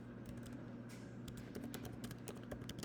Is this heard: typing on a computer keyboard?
yes